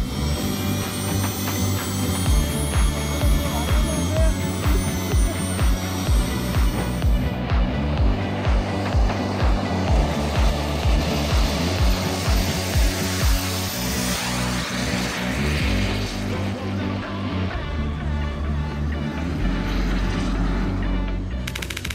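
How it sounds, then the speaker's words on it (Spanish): A jet engine mounted on a bicycle runs with a harsh, continuous blast and rapid pulsing crackle. It stays loud and close throughout the long stretch, and no voices are heard. "Estos chicos han hecho realidad la idea montando un motor a reacción en una bicicleta."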